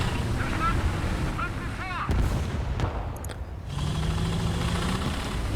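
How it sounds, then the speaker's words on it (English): A tank engine rumbles low and continuously during a War Thunder realistic ground battle, mixed with wind-like hiss, a sharp bang, and brief bits of a voice, then a rising, droning engine whine toward the end. "Hear the engine."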